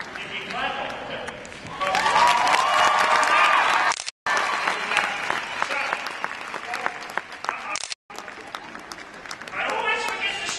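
A crowd at the Royal Winter Fair horse show in Toronto breaks into loud applause and cheering, with two brief drops to silence before the clapping resumes, and a voice talking over it at times.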